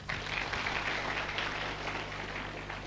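Audience applause for a speaker at a talk, an even wash of many hands clapping throughout at moderate distance.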